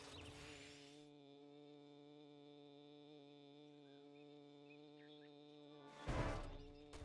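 A steady insect-like drone from a creature in the 7 Days to Die video game, resembling a bee, holds constant and moderately loud through most of the stretch before a louder burst of noise near the end.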